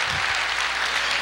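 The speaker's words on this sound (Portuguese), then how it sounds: "Pode aplaudir." Church congregation applauding during a sermon, a short burst of dense, even clapping filling the hall, with a low voice briefly audible at the start.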